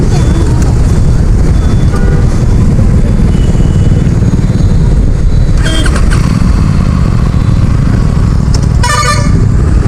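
An Aprilia RS 457 motorcycle, broken down on a highway near Nagpur, runs with a loud, rough engine drone throughout, while two short bursts of horn-like tones cut in near the end.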